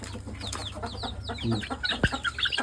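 Native country chickens on a farm cluck busily while rushing to eat feed, a dense flurry of short overlapping calls close by with one sharp knock partway through.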